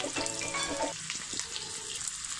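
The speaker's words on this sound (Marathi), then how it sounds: "कांदा घालायचा फोडणीमध्ये." Chopped onion dropped into hot tempering oil with green chilli paste for a Vidarbha brinjal bharit, a loud steady sizzle and crackle that stays close and continuous throughout, with no voices.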